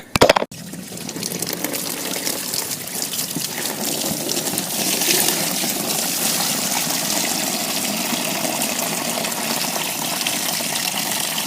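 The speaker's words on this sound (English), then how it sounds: "Hopefully that stirred things up and we can start draining again." Coolant draining from a Dodge Charger R/T police car during a coolant flush, a steady rushing gush of liquid pouring out after a brief clatter at the start, loud and continuous without talk.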